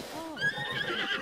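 Horses in Zelda: Breath of the Wild neigh and whinny in a close, agitated burst, overlapping high calls with a faint hint of hooves beneath, alone without talk.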